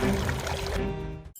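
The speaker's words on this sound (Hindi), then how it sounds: "उसने पेड़ के जादू में पानी डाल दिया।" Water is poured onto a magic tree in a steady, fairly loud, close stream that runs for over a second before cutting off abruptly, with no other sounds.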